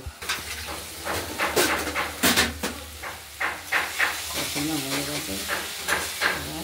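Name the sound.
onion and garlic masala sautéing in oil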